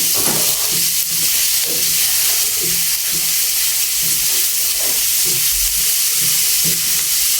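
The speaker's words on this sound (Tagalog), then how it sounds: "Ito na pong nilagay ang ating bawang at saka sibuyas." Garlic and onion sauté in a hot pan for pata kare-kare, giving a loud, continuous sizzle and hiss with occasional stirring scrapes close by.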